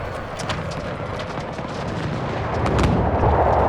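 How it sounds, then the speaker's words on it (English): Continuous rumbling battle din from Pike & Shot Total War, with artillery booms and scattered gunfire layered over a dense roar that swells louder toward the end. "they have just smashed that sapper company there with an artillery piece"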